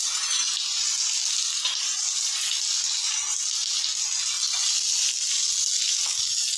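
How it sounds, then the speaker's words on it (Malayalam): Chopped onion and green chilies sautéing in a hot pan for tapioca curry, a steady, close, bright sizzle that hisses evenly throughout with no talking. "ഇതിലേക്ക് നമ്മൾ അരിഞ്ഞിട്ട് സവാളയും പച്ചമുളക് ചീരയോടും കൂടി ഇട്ടിട്ട് ഒന്ന് വഴറ്റിയെടുക്കാം"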